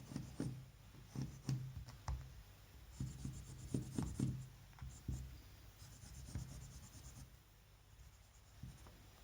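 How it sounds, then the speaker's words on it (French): Tailor's chalk scrapes around a pattern on fabric in short, irregular rubbing strokes, close and fairly quiet, with brief pauses between passes. "Je prends ma craie et je viens tracer autour, grossièrement."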